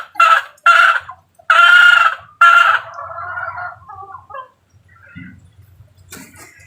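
Chickens and roosters at a gamefowl farm, with close, loud crowing bursts in the first half followed by softer clucking and scattered fowl calls.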